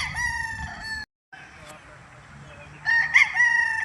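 Gamefowl roosters crow at a farm in Tagaytay City, one drawn-out call breaking off abruptly and another starting near the end, loud and close over low background murmur.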